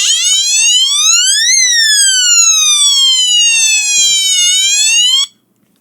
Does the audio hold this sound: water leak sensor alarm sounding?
yes